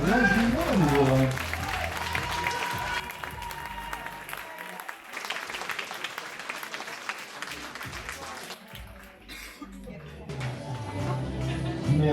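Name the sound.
audience applause for the models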